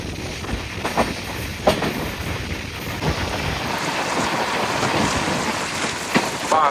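A train on the Pamban Bridge rumbles steadily as it gets under way, with a broad, noisy roar that resembles rain and faint rattling clanks throughout, no voices heard.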